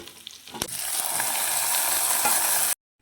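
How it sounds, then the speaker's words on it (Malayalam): Banana fritters (pazhampori) sizzle in hot oil in a pan, a steady bright frying hiss that swells after a short clatter and runs loud and continuous until it cuts off abruptly, with no voices. "അപ്പുറത്ത് ചട്ടിയിൽ പഴംപൊരി ചുടുന്നുണ്ട്"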